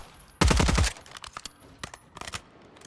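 A short, loud burst of rapid gunfire in Call of Duty Warzone, then scattered fainter shots and clicks trailing off, with no one speaking.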